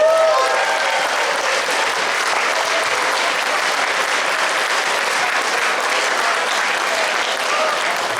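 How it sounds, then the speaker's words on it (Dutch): Audience at a carnival revue breaks into loud, sustained applause, a thick even wall of clapping that holds steady for several seconds with faint crowd noise beneath. "geef een applaus."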